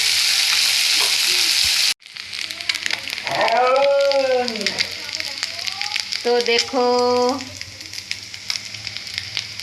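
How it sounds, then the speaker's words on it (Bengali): Small mourala fish fry in hot oil in a pan, a loud, close, crackling sizzle that swells after a brief pause while someone talks over it. "মৌরলা মাছ দেখুন ভাজি"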